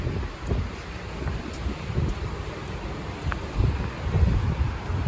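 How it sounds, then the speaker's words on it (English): Wind blows at Pismo Beach, California, a steady rumbling gust buffeting the microphone with soft rustling, and no one speaking. "My hair is blown everywhere at this point from the wind."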